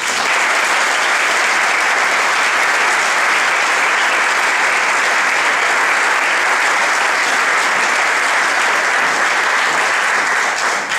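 Sustained, dense audience applause at an honorary ceremony in Villaviciosa, steady and loud throughout with no talking over it.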